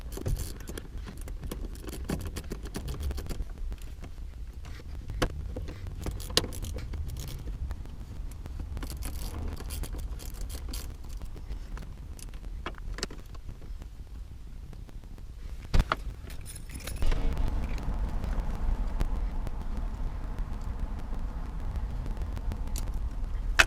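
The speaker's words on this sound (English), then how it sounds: "So let's take these 4 screws out now." Ten-millimetre bolts being loosened and pulled from a short shifter in a Nissan 240SX S13/S14, with close, irregular metallic clicks, scrapes and small jangles of tools and hardware over a steady low hum, no talking.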